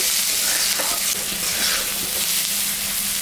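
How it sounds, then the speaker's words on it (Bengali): Potatoes and onions frying in a pan with salt and turmeric added, a loud, continuous sizzle close by with faint stirring scrapes throughout and no voices. "আলু পেঁয়াজটা ভাজা হয়ে গেছে, এখন আমি স্বাদ মতন লবণ, পরিমাণ মতন হলুদটা দিয়ে দিলাম।"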